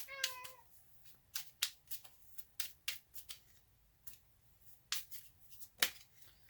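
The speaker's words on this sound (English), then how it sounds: "Please excuse my cat." A house cat makes a few faint meows early on, followed by scattered soft rustling and tapping noises that sound like shuffled cards or handled objects, with no talking.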